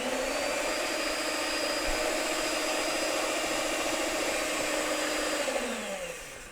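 Stand mixer beating strawberry dessert ingredients for aeration: a steady, close whirring motor hum with a constant tone that holds throughout, then slowing and dropping in pitch near the end.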